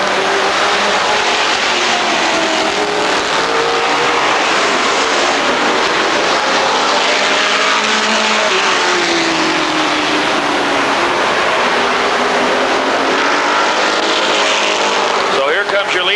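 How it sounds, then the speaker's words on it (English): Race cars at Rockford Speedway in a 1999 bracket race roar steadily around the oval track, a continuous loud engine drone throughout with a track announcer talking over it. "car making his way down the backstretch"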